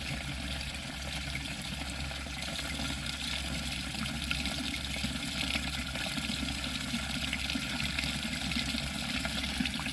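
Dirty water draining steadily from a carpet cleaning machine at a golf and country club, a continuous rushing gush with no pauses.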